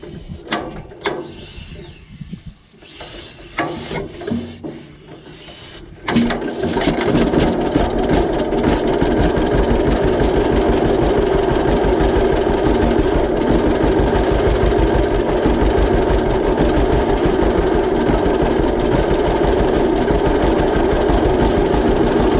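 A 1944 John Deere A tractor engine in neutral idles and surges after starting, a loud, steady two-cylinder chugging that settles into a continuous throbbing rhythm after a few sharp starts and pops.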